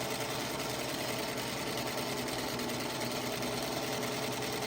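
A sewing machine stitches fabric along a marked circle, running loud and steady as one continuous close mechanical whir with no pauses.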